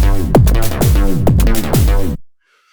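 A techno loop runs through the time stretcher of a free synth plugin: loud, close, punchy kick hits with swooping pitch drops repeat steadily over a dense synth layer, then cut abruptly to silence.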